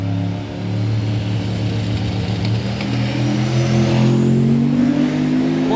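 A 1965 Corvette drag racing and struggling for traction roars down the strip, its engine note climbing steadily as it revs, loud and close with rising harmonic tones.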